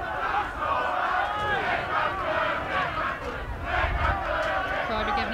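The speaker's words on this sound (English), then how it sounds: "Yeah, it's the Huddersfield fans in good voice there." Huddersfield fans at a rugby league match cheer and sing in a loud, steady roar of massed voices, with chants rising and falling over the whole crowd.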